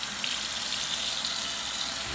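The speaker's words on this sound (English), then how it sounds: "I will add more water to this soap." Water is poured from a tap onto shave soap in a small container, a steady hissing splash running continuously, fairly close, with no voices.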